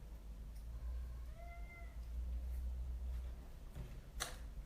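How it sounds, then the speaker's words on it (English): A pet cat meowing outdoors, a couple of faint drawn-out whiny meows at a distance over a steady low background hum, with a brief click near the end. "Can you hear my cat outside?"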